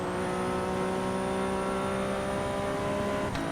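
A 700-horsepower race car engine in the iRacing sim roars at high revs, a loud, continuous, tonal drone that holds steady throughout with a brief click near the end.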